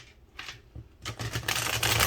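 A deck of cards being shuffled, with soft riffling bursts that grow denser and louder toward the end, close and alone without talk.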